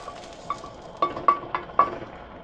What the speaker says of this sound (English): put in our onions and celery